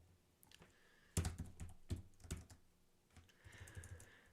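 Code typed on a computer keyboard during a programming-contest walkthrough: bursts of close key clicks in an irregular rhythm, with a couple of louder thumps, running alone with no talk.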